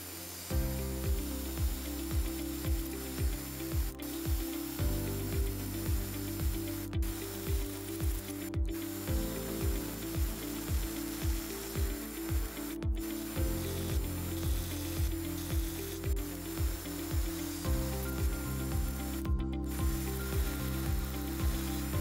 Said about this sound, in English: I bring it to its final outside dimension using the